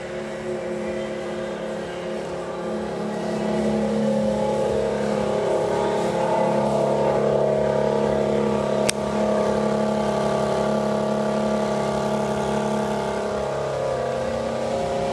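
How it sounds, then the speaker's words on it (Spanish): A 2021 BMW 4 Series engine revs with its exhaust valves opening, producing a steady, loud, close engine drone that swells after a few seconds and holds. One sharp click lands partway through. "Se nota demasiado cuando prende, cuando abren esas válvulas"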